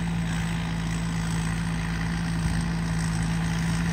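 A Thai combine harvester's engine runs at a steady idle in a field, a constant low rumble with a droning hum and no change in pace, loud and close, with no voices.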